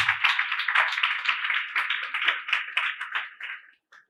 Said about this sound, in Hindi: ये कलीसिया आपके लिए तालियां बजाते हुए आपको वेलकम कहती हैं।